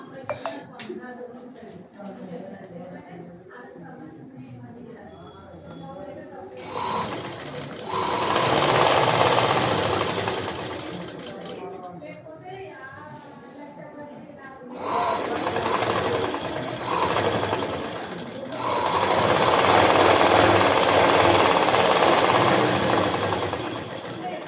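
A tailoring machine stitches a blouse front panel together with its lining in two long, loud, rapid runs separated by quieter handling sounds, with a voice talking in between.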